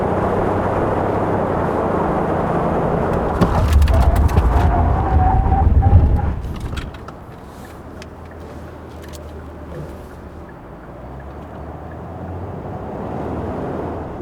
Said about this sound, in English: Now let's check out the braking performance of Kia Mohave